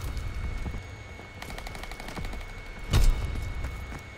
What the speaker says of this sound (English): I like this weapon a lot.